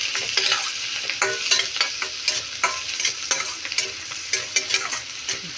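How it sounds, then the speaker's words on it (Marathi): Ginger-garlic paste and onion sizzle in hot oil for an egg gravy, with steady frying crackle and repeated scraping stirs of a spoon against the pan, close and fairly loud with no talk. "आले लसणाची पेस्ट इथे एक चमचा आपण ॲड करणार आहोत जे आपण याच्याशी परतून घेणार आहोत"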